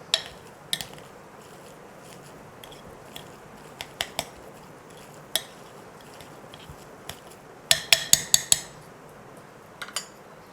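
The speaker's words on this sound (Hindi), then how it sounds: "ये देखें मैशर की मदद से हम अच्छी तरह से मिक्स कर लेते हैं।" A masher works through cooked chicken drumstick pieces in a metal pot, producing scattered sharp metallic clinks and taps, with a quick cluster of knocks midway, over a quiet background.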